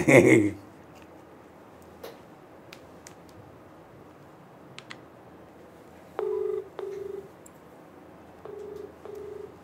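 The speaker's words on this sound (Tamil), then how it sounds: "இன்னொரு வாட்டி ஃபோன் பண்ணி பாருங்கள் சார், எடுக்குதான்னு பாருங்கள்" A phone call rings out unanswered: a loud burst at the start, then a quiet line with sparse clicks, followed by repeated short electronic ringback tones in pairs toward the end, with no talk.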